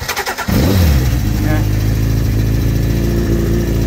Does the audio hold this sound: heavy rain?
no